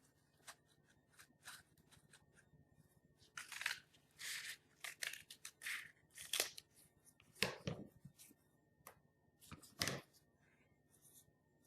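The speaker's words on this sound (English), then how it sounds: "I decided to cut another ring" A ring is cut from recyclable material for a holiday wreath. Irregular bursts of scissor snips and crinkly crunching come close and fairly quiet, separated by short pauses, with no voice.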